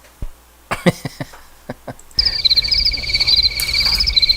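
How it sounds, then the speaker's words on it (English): Crickets used as a sound effect: a few sharp separate clicks open, then a steady, loud, high trilling chirp of crickets carries on close and continuous. "Crickets."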